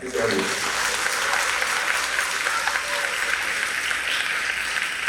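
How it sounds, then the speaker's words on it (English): At an all-county middle and high school band concert, the audience gives steady, sustained applause for the band directors, a full, even roar of clapping from start to finish. "So y'all clap them up"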